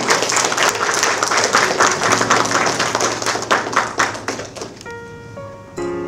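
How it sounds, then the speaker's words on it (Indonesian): Audience applause for a guest on an Indonesian talk show, a loud burst of clapping that thins out toward the end as music tones come in. "Jadi minta tepuk tangan buat Bang Deddy."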